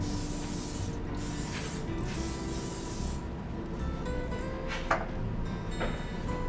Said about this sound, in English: Want to lightly spray our pan.